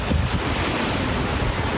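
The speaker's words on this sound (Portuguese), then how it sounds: "O vento está muito forte, a água está entrando por todo lado." Strong hurricane wind from Hurricane Irma in Florida roars steadily through a building's garage, a dense continuous rush like surf, with no voices.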